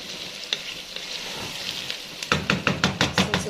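Sausage frying in a heated pot sizzles steadily up close, then a quick series of rhythmic knocks and scrapes from stirring breaks in over the hiss.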